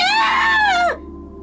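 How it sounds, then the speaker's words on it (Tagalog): A loud, piercing scream rises and then breaks off sharply, a single cry just under a second long used as a sound effect in a Filipino aswang horror story. "isang sigaw ang kanyang narinig"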